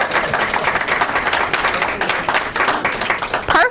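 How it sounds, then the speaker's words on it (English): Toastmasters leadership training audience breaking into applause, a dense, lively burst of many hands clapping at close range throughout, with faint voices mixed in near the end. "your prize was also the applause."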